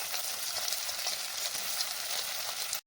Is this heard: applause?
no